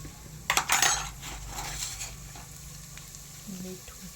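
Chili dropped into hot oil in a pan for Kathiyawadi garlic olo, a short burst of sizzling and crackle near the start that settles into a quieter fry, with faint utensil clinks.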